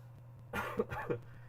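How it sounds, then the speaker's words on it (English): A man coughs twice in quick succession close to the microphone, a short throaty burst against a quiet background hum. "sorry for coughing in your guys' ear"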